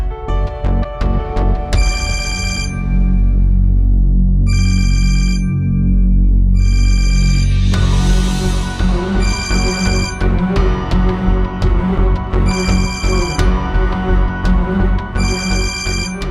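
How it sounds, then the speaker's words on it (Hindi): Electronic telephone ringtone in a Pakistani drama, sounding in repeated bright tonal bursts over a musical underscore with low drones, the rings recurring at regular intervals for the whole stretch. "रोहान, ये तुम्हें फोन कैसे कर सकता है?"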